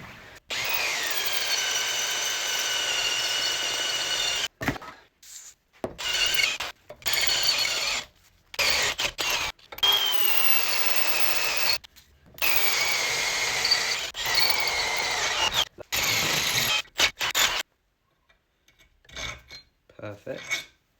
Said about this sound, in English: Right, we've got a couple more holes to drill out here.